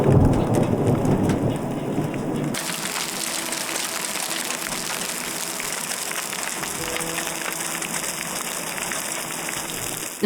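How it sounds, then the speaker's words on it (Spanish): A heavy thunderstorm with hard-falling hail, a dense, loud, continuous roar of impacts on surfaces that shifts in character partway through and keeps going steadily. "Empezó a granizar fuerte, como hacía tiempo no lo hacía."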